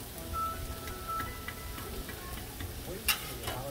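Peppers and onions sizzle on a Blackstone griddle over low heat, a quiet, steady crackle with faint stirring scrapes and one sharp clink near the end.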